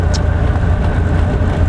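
A 1930 Rolls Royce Phantom I cruising on the road, its engine giving a steady, close low rumble with constant road and wind noise throughout and no voices.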